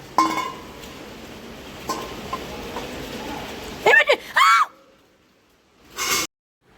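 A bowl dropped by a child from a balcony hits the ground with a couple of sharp clinks and clatters, then a high scream follows, over a steady background hiss like rain.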